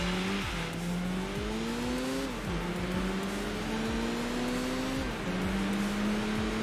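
Race cars launch off the line in Enthusia Professional Racing, with a heavily modified car, a Mercedes and a Viper on a wet track. Several engines rev and climb together through repeated gear-change steps, and tires hiss steadily underneath.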